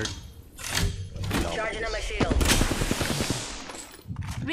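Rapid bursts of automatic gunfire and single heavy shots ring out loud and near in an Apex Legends match, mixed with thuds and impacts while voices talk over the shooting.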